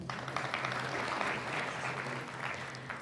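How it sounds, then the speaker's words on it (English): Steady applause from an audience at a high school senior class night fills the room at moderate volume, sounding somewhat distant and continuous throughout. "You can applaud, it's okay."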